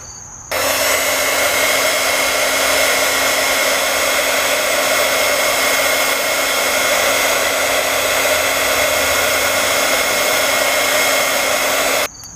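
A heat gun blows hot air steadily onto the plastic of a homemade cat feeder to soften it, a constant loud whooshing hiss with a faint whine running nearly twelve seconds without pause before cutting off.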